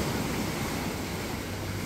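Sea surf rolling onto a shore in Quezon Province, heard as a steady, loud wash of broadband noise with wind buffeting the microphone and no distinct breaks between waves.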